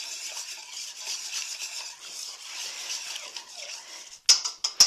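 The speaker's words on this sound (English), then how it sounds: "and just give it a quick whisk" Whisk beating wet ingredients and a little flour for yeast dough in a bowl, a steady, close swishing stir that ends in a few sharp taps against the rim.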